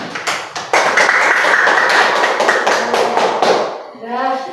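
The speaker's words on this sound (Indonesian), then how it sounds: "Kita beri aplaus pada teman kalian." A classroom of students claps in applause for a classmate, a dense run of hand claps lasting several seconds before fading as a voice begins to speak.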